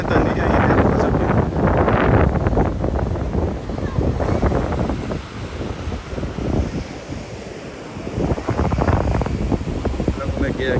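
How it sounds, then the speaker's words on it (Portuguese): Strong wind buffeting the microphone on a beach at Ilha da Pedra, with surf rolling in behind it; gusts roar loudly throughout, easing briefly midway before picking up again. "Desculpa a ventania aí, né?"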